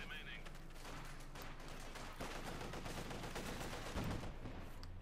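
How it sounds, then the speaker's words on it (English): Continuous battle din from Company of Heroes 2, a World War II strategy game, as machine gun defences fire on advancing Grenadiers: dense, unbroken gunfire and explosions at steady loudness with a heavier burst near the end. "And the Grenadiers being baited into the machine gun defences there."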